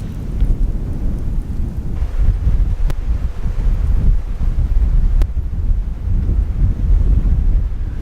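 Strong wind blows steadily at a seaside campsite, a loud continuous rumbling roar buffeting the microphone for the whole stretch with no voices.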